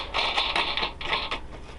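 A propeller nut is tightened down on an H-King Yak-11 warbird RC plane, producing several close, short ratcheting and creaking bursts in a quick irregular rhythm, with no talk.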